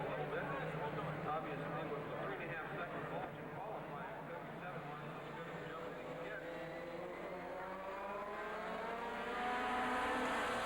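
A Fortech Mini race car accelerates off the race start, its engine a steady, fairly loud drone that holds and builds slightly toward the end, with no other sounds standing out.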